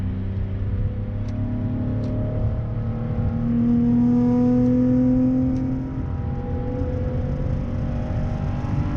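A car fitted with a Ralco lightweight crank pulley revs up after a downshift, its engine note rising into a sustained whirring pull mid-clip before easing back, with no voices.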